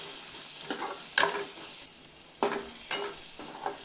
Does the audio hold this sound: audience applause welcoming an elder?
no